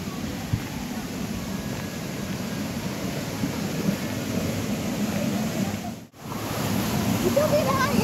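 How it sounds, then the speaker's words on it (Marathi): Strong, fast water flow in a canal lined with coconut trees, a broad steady rushing roar heard close by, with a brief dip partway through. "पाण्याचा प्रवाह भरपूर मोठा होता"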